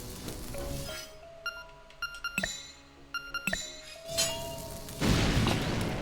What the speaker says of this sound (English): go ahead and pull out a bomb